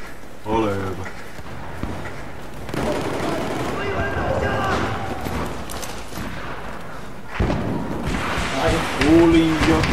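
Gunfire crackles in the multiplayer video game Battlefield 4, with bursts of automatic shots and explosive battle noise throughout while players talk in Finnish over the action.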